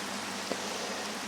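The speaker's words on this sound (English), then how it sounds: "oh my, that's loud rain" Loud, dense rain pours steadily in a Minecraft world as a constant broadband hiss that stays even from start to finish, with no talk over it.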